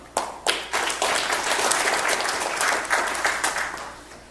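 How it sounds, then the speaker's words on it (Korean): Audience applause at a Korean business breakfast forum as guests are introduced, a dense steady wash of many hands clapping, loud and continuous with a few sharper onsets, no voices over it. "여러분 다시 한번 큰 박수 부탁드립니다"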